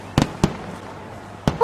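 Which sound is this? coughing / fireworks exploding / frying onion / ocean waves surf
fireworks exploding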